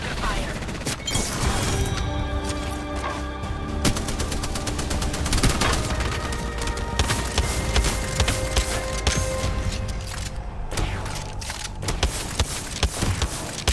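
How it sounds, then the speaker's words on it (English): Rapid bursts of automatic gunfire and scattered single shots crackle nonstop in a video game shooter, loud and close, with brief voices mixed in among the shots. "I'm under fire"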